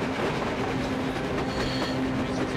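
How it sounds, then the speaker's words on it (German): A train rolls past on the surface in the video game Metro Exodus, a steady rumbling clatter of wheels on track with a faint humming tone, moderately loud and continuous with no voices. "Ein Zug! Ein verdammter Zug an der Oberfläche!"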